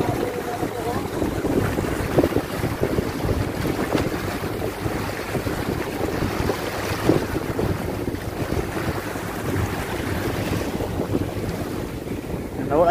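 Boats on the sea off Aceh, with steady wind and wave wash roaring across the whole stretch and a low engine-like rumble beneath, plus faint voices in the background.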